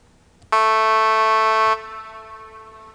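A bright, sustained FL Studio synth pad with rich harmonics holds steady for just over a second, then cuts off, leaving a soft delay and reverb tail that fades.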